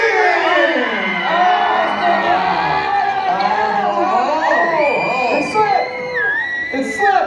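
A large audience at a Halloween Horror Nights show at Universal Orlando screams together on cue, a loud, sustained wall of shrieks and yells from many voices that lasts for several seconds.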